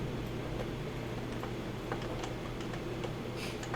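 Computer keyboard keys are pressed during Unity scene-view navigation with WASD, Q and E, producing faint, scattered clicks at irregular intervals over a quiet background.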